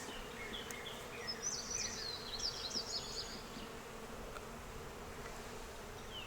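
Honey bees buzzing inside a beehive after being dusted with powdered sugar, a dense agitated hum from many bees close by with a few individual bees whining past, steady and fairly quiet, with no talking.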